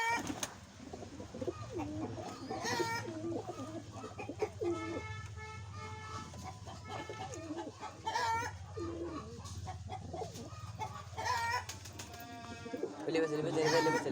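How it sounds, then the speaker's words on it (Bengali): Old pigeons in a home loft cooing and clucking repeatedly at close range, layered and continuous, with someone talking over them. "গাইস এই আমার ঘরে বুড়ো পায়রা"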